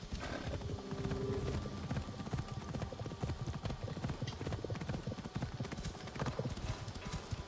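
Horse hooves clip-clopping in the video game Assassin's Creed Odyssey, a quick steady galloping rhythm close up over game ambience, with a brief horse whinny early on.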